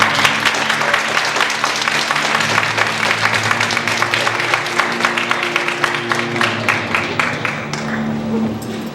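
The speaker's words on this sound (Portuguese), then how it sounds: "Dá uma salva de palmas pra ele." Audience at a ufology symposium giving a round of applause, close and loud individual claps forming a dense rhythmic patter that fades out toward the end, with a low hum underneath.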